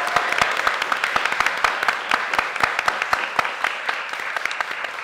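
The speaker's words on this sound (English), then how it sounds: "Can we get a round of applause for everyone who's donating?" Audience applause for charity donors at a live gaming fundraiser, a dense steady patter of many hands clapping with sharp individual claps standing out throughout.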